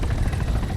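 A helicopter in Arma 3 makes a loud, continuous rotor and engine roar that throbs steadily and sounds close, with no other sounds.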